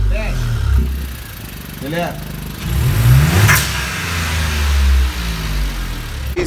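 A VW Up TSI engine revs with the exhaust diffuser closed, several rising and falling throttle blips over a loud close idle rumble, with a voice speaking over it.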